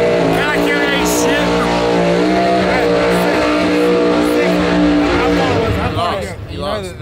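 Loud, close drone of a race car engine at a no prep drag race, its harmonics rising steadily before easing off near the end, with voices mixed in.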